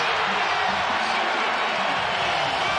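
Basketball crowd roaring and cheering inside the McHale Center arena during a UCF versus Arizona men's game, a dense, steady wall of loud crowd noise for the whole stretch.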